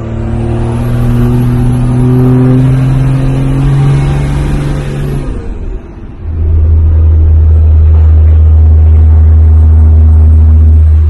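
A Cummins diesel in a Sweptline truck whose turbo isn't building boost, revving loud and close with a sustained rising engine drone, a brief dip, then a deep steady rumble at lower revs.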